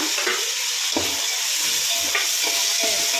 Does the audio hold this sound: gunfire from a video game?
no